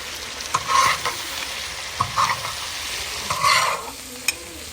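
Chicken liver fries on a hot tawa with tomato, giving a steady sizzle broken by several louder bursts of scraping and stirring, close by with no voices.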